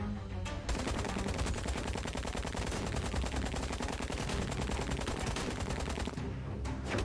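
Sustained MG42 machine gun fire in the video game Syberia The World Before, a dense, rapid, unbroken stream of shots that runs for several seconds at an even level before stopping abruptly.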